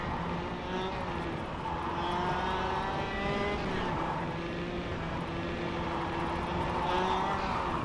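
A go-kart engine in the KartKraft racing game drones continuously around the track, its pitch rising and falling through corners and straights, with a voice talking over it.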